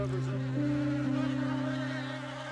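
A close, steady droning buzz of insects, sustained at an even level with a low humming pitch that wavers slightly.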